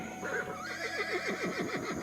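A horse neighs in a long, wavering whinny that rises and falls in rapid pulses, close and clear over a steady low background, with no talking.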